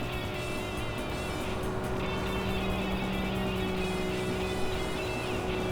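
Lotus car engine in the Tokyo Xtreme Racer 3 video game, a steady sustained drone with strong harmonic tones, loud and continuous throughout with no talking.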